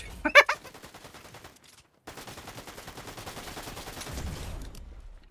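Flintlock pistol gunshots in the video game Fortnite: a sharp loud blast near the start, followed by a dense stretch of steady gunfire and game noise after a brief silent gap.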